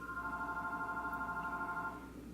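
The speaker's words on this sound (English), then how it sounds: "My phone's ringing." A landline telephone rings indoors, one long electronic trill holding steady for about two seconds before cutting off, fairly clear against quiet room tone.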